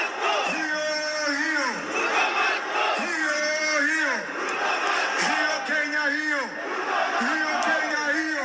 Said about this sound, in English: the whole pitch is chanting anti-Ruto, anti-Raila sentiments